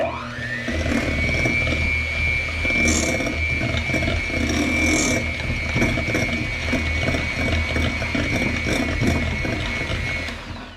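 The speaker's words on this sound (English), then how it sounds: "we're going to add 1 egg. And this will be the last stage of the hand mixer." Electric hand mixer whirring steadily as it beats an egg into butter and sugar for blueberry muffin batter, a close continuous motor whine with rattling and clicking of the beaters against the bowl.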